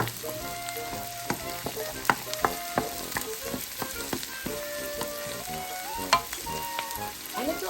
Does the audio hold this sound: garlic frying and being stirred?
yes